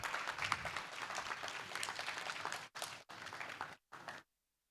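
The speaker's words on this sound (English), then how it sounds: "A round of applause." At a tech community gathering, an audience claps in a sustained round of applause, fairly busy and even, then breaking into short bursts with gaps before cutting off into silence.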